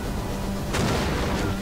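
Artillery fire in the medieval strategy game Kingdoms 1212ad, with a loud booming shot partway through rising over a dense, rumbling battle din, followed by a second fainter thump.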